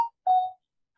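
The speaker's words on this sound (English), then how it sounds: "Who's peeping? That's my phone, which I will shut off now." A mobile phone gives two short, clean beeps during a talk, a brief first blip followed by a longer tone, faint and isolated against silence, with no speech.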